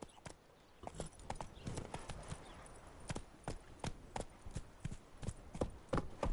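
Hooves of the horse in The Witcher 3 clip-clopping steadily at a walking pace, a regular train of crisp hoofbeats, faint and with no talk over it.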